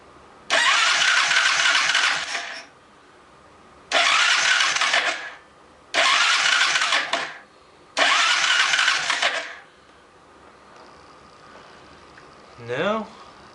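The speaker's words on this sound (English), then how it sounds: "I'm gonna take off the spark plug and crank it." Small engine cranked over with its spark plug removed during camshaft and valve troubleshooting: four separate bursts of loud, rushing whirring, each about two seconds long with short pauses between, then a brief faint noise at the end.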